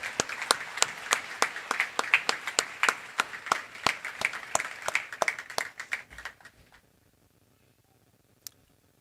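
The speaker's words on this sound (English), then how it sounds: "Everybody, another big round of applause for her retirement and the gifts she's given to all of our children." Graduation audience applause for a retiring teacher, sparse and distinct claps from a small group, close and rhythmic, thinning out and stopping after about six seconds, with one last stray clap near the end.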